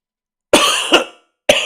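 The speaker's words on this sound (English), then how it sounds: "I guess I'm going to start coughing now" A person coughs in close, loud bursts: two rough coughs run together, then a third after a short pause, with no talk.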